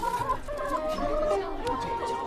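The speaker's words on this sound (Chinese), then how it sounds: "这鸡怎么卖啊？ 公鸡50文，" Chickens cluck and squawk at a market stall where both roosters and hens are for sale, several birds calling close together in a busy stream of overlapping notes.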